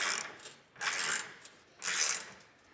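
Wrench ratcheting on trailer hitch bolts while fitting a Curt Class III hitch to a 2021 Ford Ranger, heard as two bursts of quick clicking a second apart, close and clear with no talking.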